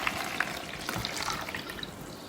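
Half a liter of warm water is poured into a bowl for burger bun dough. The pour makes a soft, steady splashing trickle at low volume throughout.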